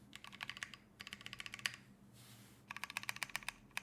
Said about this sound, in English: I am quite happy with the sound as well.